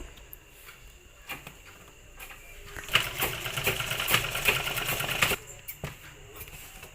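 Sewing machine running as a garment neck is stitched onto a waste piece, short bursts of rapid needle clatter that grow louder and steadier in the middle, with no talk.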